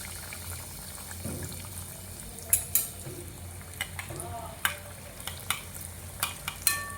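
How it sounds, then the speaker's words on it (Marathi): Bread-crumbed snacks lowered into hot oil for deep frying at low to medium heat, a steady soft sizzle with occasional sharp clinks and stirring sounds close by. "आता आपलं तेल तापलं आहे, आपण डीप फ्राय करायला घेऊ."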